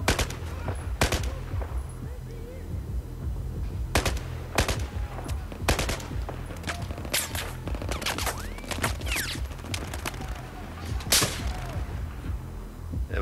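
Rifle gunfire in the Battlefield 4 video game on Xbox One: repeated sharp shots and short bursts crack out over a low rumbling battlefield bed, spaced irregularly across the scene.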